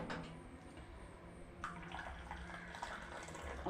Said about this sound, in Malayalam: ചൂട് പാലും കൂടി ഇങ്ങനെ ഒഴിച്ച്